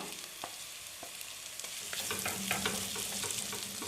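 Spatula stirring wilted sautéed onions with turmeric and spice powders in a hot pan for a crab roast, soft sizzling frying with scattered scraping clicks, faint and close, no talking.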